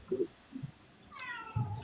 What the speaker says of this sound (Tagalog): Yung pusa mo, nag-meow.